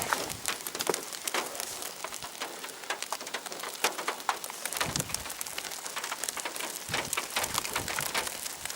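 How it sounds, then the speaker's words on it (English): Light rain from a sun shower patters steadily on nearby surfaces, with scattered sharper drop hits and no voices. "Splash of rain on my skin."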